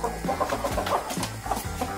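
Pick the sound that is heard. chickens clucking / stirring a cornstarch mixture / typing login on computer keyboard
chickens clucking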